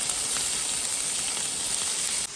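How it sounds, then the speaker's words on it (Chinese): Pork belly sizzles on a home electric grill pan turned to its highest heat, a steady close hiss of fat with no talking. "先把五花肉烤一下"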